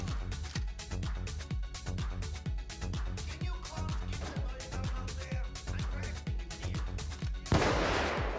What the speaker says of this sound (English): he sniped me through the curtain